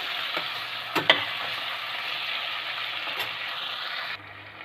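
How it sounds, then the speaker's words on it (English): Chopped tomatoes frying with onion and masala powder for peas masala rice, a steady close sizzle with a few stirring scrapes and knocks, then the sizzle drops quieter near the end. "So here I added the chopped tomatoes. I'm going to fry along with the onion and the other masala powder"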